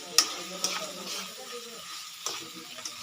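Tomatoes, onion and garlic frying in a pan while being stirred: a soft sizzle underneath with a few sharp clinks and scrapes of a utensil against the pan, faint and close, with spoken words in a low voice.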